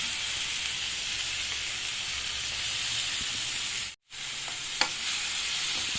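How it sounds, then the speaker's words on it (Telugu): Steady, loud sizzling hiss of blended tomato puree frying in a pan, with a brief dropout and a small clink near the end; no talking. "టమోటా చేసుకుని మిక్సీ వేసి పట్టించిన టమోటాని మనం దీంట్లో వేసుకోవాలి"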